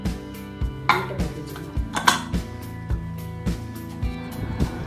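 Metal lid knocking and clinking onto a pressure cooker pot of boiling mutton gravy, a series of irregular close clanks and taps against a steady low bubbling background.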